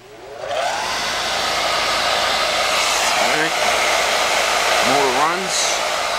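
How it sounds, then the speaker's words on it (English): A small Tjernlund gas power venter motor whirs steadily and loudly, blowing exhaust air without pause, with a few brief squeaky tones over the hum. "Motor runs, exhaust out, pulls the vacuum switch in, actually clicks the relay in, turns the motor on."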